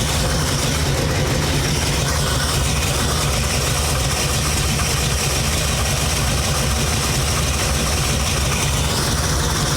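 A 1970 Ford Falcon engine idles with a steady, even low rumble and a constant mechanical hum, loud and close, running on without change and with no voices.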